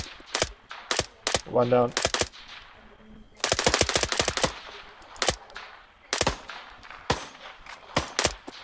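Squad opening fire in Arma 3, rapid bursts of rifle and machine gun shots cracking close and loud in irregular clusters, with a brief spoken call between volleys.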